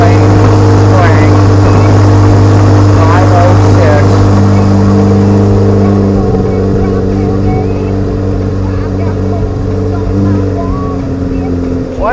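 A 2025 Corvette Z06 flat-plane crank engine idles loudly and steadily close by, holding a deep, even drone with small shifts in pitch throughout.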